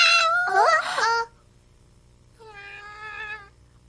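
A cartoon cat gives two clear, drawn-out meows with a short pause between, close and fairly loud with no other sound around them.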